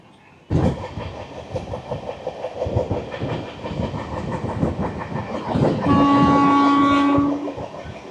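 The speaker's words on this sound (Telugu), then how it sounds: "ఎయిటీ నుంచి హండ్రెడ్ పైన వెళ్తుంది ట్రైన్" An Araku mountain railway passenger train running at roughly 80 to 100 km/h gives a steady, loud rumble and rattle of the carriages, with a long horn blast sounding near the end.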